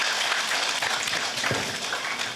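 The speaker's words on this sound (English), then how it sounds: "A big round of applause for Murali sir." A large audience at a corporate success meet, Novac Success Meet 2025, applauds for a speaker coming on stage, a dense, steady, fairly close patter of clapping with no talking over it.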